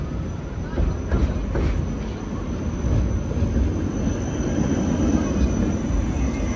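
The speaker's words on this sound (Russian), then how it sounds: "Машины вот так вот ездят, и трамвай едет." A tram passes along a street in Yevpatoria among moving cars, a steady low rumble and rolling hum that holds throughout at moderate loudness.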